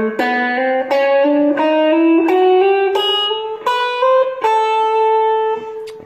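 A guitar, with distortion, plays a pentatonic scale using chromatic approach notes. Single notes climb step by step with audible slides and hammer-ons, each note ringing clearly in an even, unhurried rhythm.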